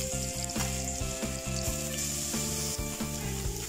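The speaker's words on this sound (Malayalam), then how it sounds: "ഇതിനകത്ത് ഞാൻ ഇഞ്ചിയും വെളുത്തുള്ളിയും ചെറിയ ഉള്ളിയും ചതച്ചത് ഇട്ട് കൊടുക്കുകയാണ്." Crushed ginger, garlic and shallots fry in hot coconut oil in a pan, giving a steady, close sizzle throughout with a few soft stirring knocks.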